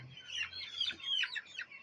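Young chicks at a poultry farm peeping and clucking during beak trimming, a quick run of high, close chirps with no talking.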